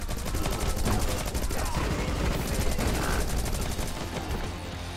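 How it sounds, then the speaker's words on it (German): Gunfire rattles in the video game Rocketbirds: Hardboiled Chicken, fast and continuous, loud rapid shots repeating throughout with game sounds underneath. "Weiter schießen, weiter schießen."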